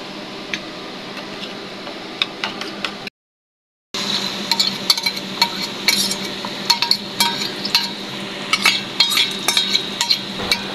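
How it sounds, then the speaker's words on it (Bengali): Eggs frying in a pan on a home stove, with a steady sizzle beneath sharp clinks and ticks of a utensil against the pan, a brief dropout partway through. "এখন ডিম ভেজে নিচ্ছি।"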